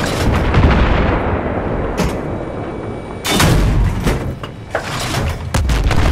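Gunfire in the video game Battlefield 3 comes as loud, close blasts and rolling booms, with heavy bursts near the start and again after a brief lull midway.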